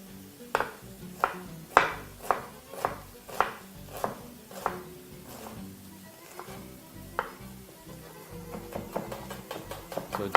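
A knife chops onion finely on a board in a home kitchen, a close run of about a dozen crisp, evenly spaced knocks that slow and soften before a few more quick cuts, with no talk.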